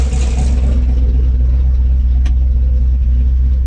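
A loud, deep car engine rumbles steadily at cold idle nearby in a shop, with a throbbing low drone and a brief faint click partway through.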